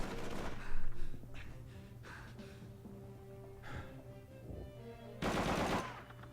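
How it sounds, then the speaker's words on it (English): In Call of Duty 3, an MG42 machine gun fires in rapid bursts, loud and near, separated by quieter gaps with in-game noise and a final heavy burst. "You guys up there on that MG42 are driving me batty"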